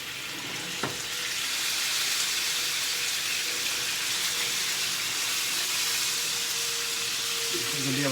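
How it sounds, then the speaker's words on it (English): Olive oil, butter and garlic sear in a tilted pan, giving a steady, close, broadband sizzle that runs unbroken throughout, with a faint clunk near the start. "tilt the whole pan itself to get the olive oil and butter and garlic to sear that side"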